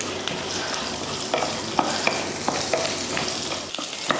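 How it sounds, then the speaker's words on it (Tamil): Garlic, ginger, onion and cashews sauté in a pan, a steady soft sizzle with scattered clicks and scrapes of stirring, close and moderately quiet, without any voice. "இதை வதக்கி விட்டுறலாம்."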